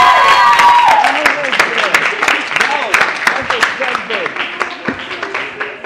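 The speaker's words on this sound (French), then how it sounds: "j'aimerais qu'on applaudisse encore une fois pour elle" A school audience claps for a student at St Ignace High School, a scattered burst of handclaps that thins out over several seconds while a host keeps talking over it.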